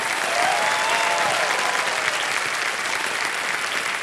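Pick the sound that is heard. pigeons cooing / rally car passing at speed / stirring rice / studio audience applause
studio audience applause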